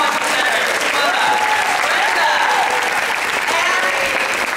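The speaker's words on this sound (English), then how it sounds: "One last round of applause." Sustained audience applause for a group of presenters at a summer institute session, a dense, steady clapping that fills the room without a break.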